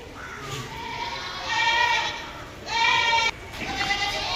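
Goats bleat at the Deonar goat market in Mumbai, with three or four loud, wavering calls close by, separated by short gaps, over a murmuring crowd background.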